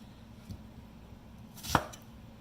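A knife cuts through a large onion on a board for a Thai coconut lime mussel curry, with a soft knock early on and one crisp, distinct cut a moment later in a quiet room.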